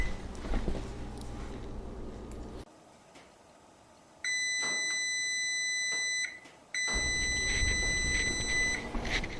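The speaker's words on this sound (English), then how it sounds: "So the timer has gone off for the additional 15 minutes" Kitchen oven timer beeping while a boneless leg of lamb roasts: a loud continuous electronic tone that starts midway, cuts out briefly, then resumes, with kitchen rumble before it.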